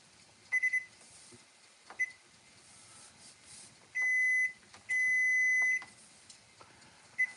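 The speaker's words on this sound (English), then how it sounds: "Timer." A cooking timer in a hotel room beeps in short bursts, then sounds two longer sustained tones, with a final quick beep, fairly clear over a quiet background.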